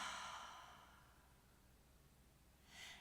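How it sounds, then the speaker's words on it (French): A big exhale through the mouth during a calming yoga flow, a long soft breathy whoosh that fades out, followed by a shorter, fainter breath near the end, close and quiet with no talking. "Une grande expire par la bouche."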